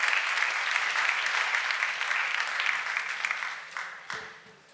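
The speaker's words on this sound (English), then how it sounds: "give him a round of applause" A conference audience claps as a volunteer is called up on stage, a dense burst of applause that holds steady and then tapers off near the end as a few louder claps and a thump fade out.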